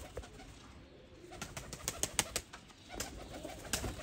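Peplan wale pigeons coo softly nearby with a few sharp clicks and rustles of movement, no voices over them.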